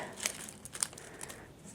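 Plastic wrapper of a Winx trading card packet crinkling as it is opened, a few soft rustles and sharper crackles across a quiet moment, close and fairly faint.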